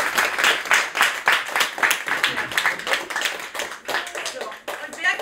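Classroom applause after a German TestDaF exam-prep course: a group claps in dense, uneven bursts throughout, fairly close, with some voices mixed in.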